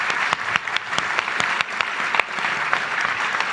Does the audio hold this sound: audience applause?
yes